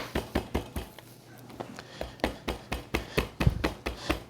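Repeated sharp thuds of a meat mallet pounding a bone-in pork chop, about a dozen blows in a loose steady rhythm, close and fairly loud, with no talking.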